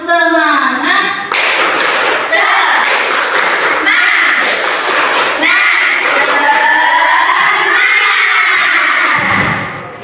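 Schoolchildren in a classroom perform a rhythmic spirit clap, bursts of patterned clapping mixed with chanted voices and shouts throughout.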